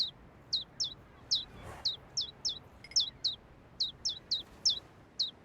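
Small birds in a video game chirp in quick, regular bursts, bright little calls repeating steadily across the scene over a quiet background hum.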